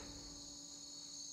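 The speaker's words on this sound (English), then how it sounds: "Also crickets, chat." Steady high-pitched cricket chirping from the Camp Canyonwood video game, an unbroken insect drone at even volume with nothing else over it.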